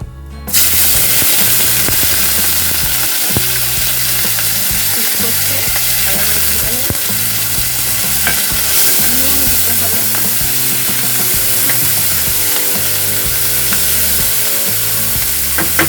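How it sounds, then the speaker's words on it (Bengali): Onion added to hot oil with cumin seeds, bursting into a loud, close, crackling sizzle that holds steady with stirring scrapes and spatters throughout. "এবার আমি এর মধ্যে পেঁয়াজটা দিয়ে দেব।"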